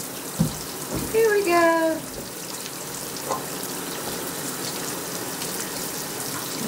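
Water poured over a pet monkey during a bath, steady running and splashing water heard close, with a short spoken phrase and a brief squeaky animal call early on.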